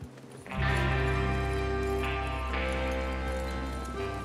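Horses galloping in Red Dead Redemption 2, heavy hoofbeats under a loud, steady game score with swelling music throughout.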